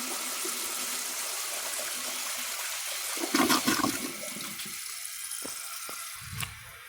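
A 1987 Norris NI toilet flushes on the water left in its tank, a steady rushing gush close by with a burst of turbulence midway and a gurgling drain near the end.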